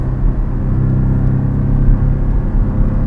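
Engine of a 2019 Porsche Cayman 718 while driving, a steady low rumble and drone heard from inside the cabin, with no talk over it.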